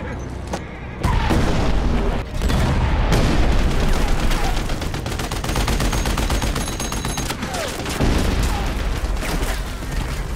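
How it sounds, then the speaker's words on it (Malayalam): Rapid bursts of gunfire from a war film crackle and boom almost continuously, loud and close, with brief pauses between volleys and no voices. "ഭാഗ്യം, അറ്റാമിയും കുതിരയും വെടിയേൽക്കാതെ രക്ഷപ്പെട്ടു"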